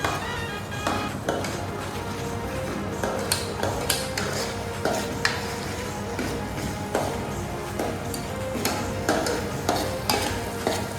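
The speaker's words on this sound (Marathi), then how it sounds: "कांदा टमाटर आपण घेतला आहे त्याला चांगला शिजवून घेऊया." Onion and tomato cook in a pan for an Agri Koli–style prawn dish, a low sizzle under frequent clanking stirs and scrapes of a metal spoon against the pan, close and busy.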